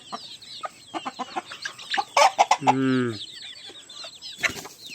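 A native country rooster clucks in a run of short, sharp calls and then gives a brief, loud crowing burst, close by in a farmyard setting, with people talking around it.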